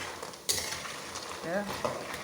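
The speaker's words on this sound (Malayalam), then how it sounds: "വറുത്ത് കോരട്ടെ." Eggless chukkappam snacks deep-fry in hot oil with a soft, steady sizzle while a metal utensil stirs and scoops, giving a few sharp clinks close by.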